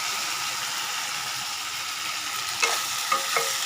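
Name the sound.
stirring ivy gourd curry frying in pan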